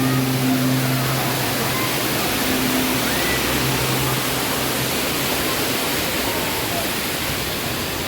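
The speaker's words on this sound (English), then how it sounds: "They're pouring water in here." A statue at Volcano Bay water park pours water in a dense, loud, hissing rush that stays constant throughout, with a low hum fading in the first half and no audible talk.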